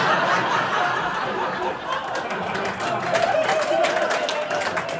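A comedy show audience claps and chatters, a steady spread of applause mixed with laughter and murmuring crowd noise, with someone talking over it.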